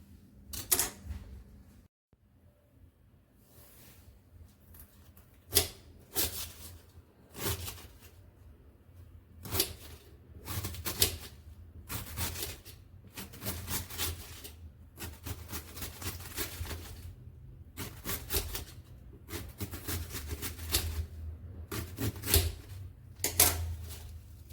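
A knife slicing food into pieces on a board, repeated sharp chopping strikes in irregular bursts, close and fairly quiet with brief pauses between groups of cuts.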